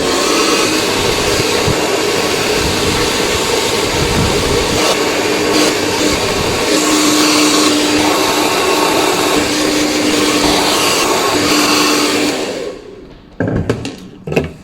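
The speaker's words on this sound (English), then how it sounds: "I'm going to go dry my hair into a style that I want" A hair dryer blow-drys hair in a barber's styling session, a loud, steady, close-up whoosh of rushing air that runs continuously and then cuts off near the end, followed by a few faint handling knocks.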